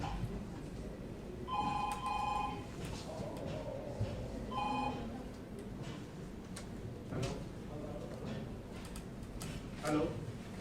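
A telephone rings on stage during a theatre play in two short bursts of bright repeated trills, heard amid actors' voices and room ambience.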